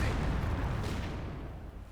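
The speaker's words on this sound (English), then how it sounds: "Trying to rifle grenade it." A rifle grenade blast in the real-time strategy game Company of Heroes 2, a dull low boom that rolls out and slowly fades over the battlefield ambience, with no voices over it.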